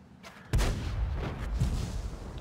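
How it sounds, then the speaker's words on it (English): A heavy tank cannon in a tank video game fires a single sharp, booming shot that rolls into a lingering rumble, with a softer second thump shortly after, and no talk over it. "which allows the CDC to get flanking and rear shots on the Type 4 Heavy"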